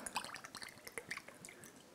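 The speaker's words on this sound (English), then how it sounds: "we'll see what it looks like when I pour it" Pomegranate vodka, an organic spirit with flakes floating in it, pours into a glass in a soft, close trickle of drips and splashes lasting about two seconds, quiet and alone.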